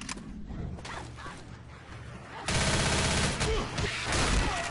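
Rapid gunfire from shooting at zombies in Left 4 Dead, a burst of bursts and bangs that grows louder and denser halfway through, with no talk over it.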